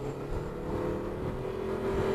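Polaris RZR XP 1000 street-legal side-by-side, a 2023 model, shifting into high gear and accelerating, its engine a steady close drone that builds slightly in pitch over a couple of seconds, with no talking.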